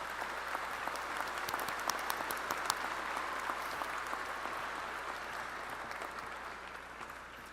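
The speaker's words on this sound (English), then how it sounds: "So give a round of applause to everyone here," A commencement audience at Keystone College claps steadily in a large hall, with crisp individual claps over a dense, moderately loud applause that tapers slightly toward the end.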